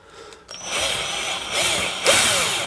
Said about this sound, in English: you can just take your time with the drill